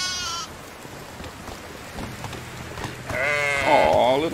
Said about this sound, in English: there is a sheep